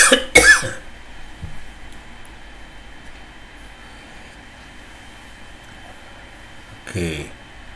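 A man coughs in a few harsh, close bursts at the start, then a quiet stretch with faint background hum follows, and another short cough-like burst comes near the end.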